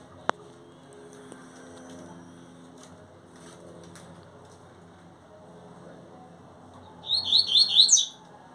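A double-collared seedeater sings from a cage, giving a quick burst of bright, repeated high chirps that stands out clearly over a faint background murmur.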